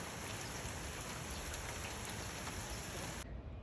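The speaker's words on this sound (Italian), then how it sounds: "è venuta la pioggia" Rain falls in a steady, dense hiss near a church shelter outdoors, close and even for a few seconds before abruptly thinning out.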